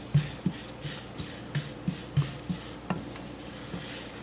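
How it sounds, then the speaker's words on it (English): Coriander seeds roast in a pan, a steady series of soft clicks and light scraping taps every half second or so, close and quiet, with faint sizzle between. "go ahead and do your coriander seeds. roast these. Also, they will begin to pop"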